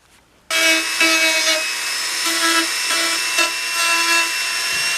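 A power tool deburrs a repaired carbon fiber fairing on a Ninja motorcycle. It starts abruptly and runs as a close, steady high whine with short rhythmic grinding bursts as it works the edge.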